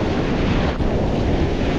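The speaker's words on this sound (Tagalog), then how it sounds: "Ramdam na natin yung bugso ng bagyo sa kanya, sa alon niya." Strong waves driven by an approaching typhoon crash onto the shore in a loud, continuous surging roar, with heavy wind buffeting the microphone.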